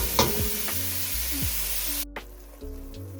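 Ground beef fries in a pan with a close, steady sizzle, broken by a few scrapes and knocks of a utensil breaking up the meat.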